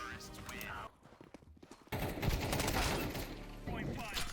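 Bursts of rapid gunfire in Counter-Strike crackle, pause briefly, then resume loudly and densely, with voices talking over the shooting.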